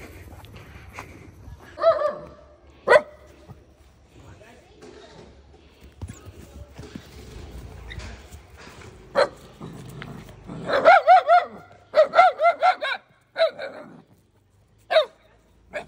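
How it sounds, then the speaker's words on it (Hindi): Small dogs bark and yip while playing, sharp high barks scattered through the stretch with a quick cluster near the end, close by over quiet background and occasional talking. "भाई ये छोटे छोटे कुत्ते डरते हैं इससे, देखना ये खेलना चाहती है"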